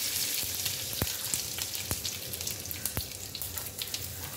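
Garlic and asafoetida frying with urad dal in hot oil, a steady close crackling sizzle punctuated by a few sharp clinks of a spoon against the pan.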